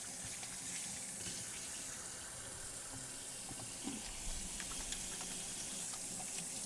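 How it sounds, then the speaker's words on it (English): Tap water runs steadily into a sink while hands are washed during a sweet pepper poppers cook-off, a continuous even gush with no talking. "As I just go wash my hands"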